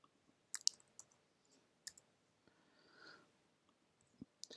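Computer mouse clicking, a few sharp isolated clicks close up in a quiet room with faint breathing between them.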